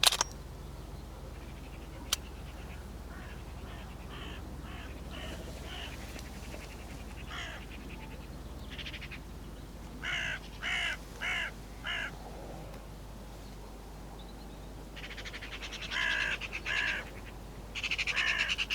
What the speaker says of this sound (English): Then all of a sudden, another magpie lands.